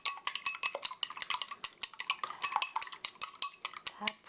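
Raw eggs beaten in a bowl for pear fried rice, a fast run of light clinking strokes against the bowl, close and fairly quiet, with no talk.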